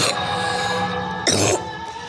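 A single harsh cough bursts out near the middle, close and loud, over a background of music playing through a speaker during Uttarayan kite flying.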